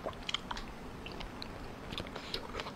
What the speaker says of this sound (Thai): หอยจะกรอบมาก